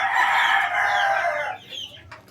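Pullets and a rooster in a backyard breeding pen give a single drawn-out crow followed by softer clucks, close and clear with no talk.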